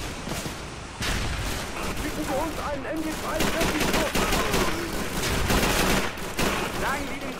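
Dense, continuous gunfire from the video game Call of Duty 3 at the Laison River, with rapid volleys and bursts of automatic fire layered into a loud, sustained barrage.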